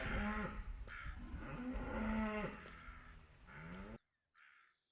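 Cattle on a cow farm in an animated Tamil moral story moo loudly several times in succession, with crows cawing faintly and a brief quiet gap near the end.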